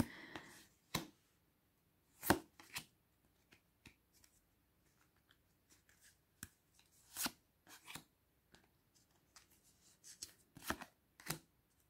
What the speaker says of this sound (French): J'arrive pas à attraper les cartes.